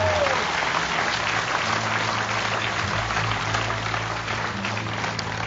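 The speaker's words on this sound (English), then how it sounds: "Please, a round of applause for the Department of Public Works and Joe." A crowd at an outdoor monument dedication applauds in a sustained, dense round of clapping that holds steady and fades slightly toward the end.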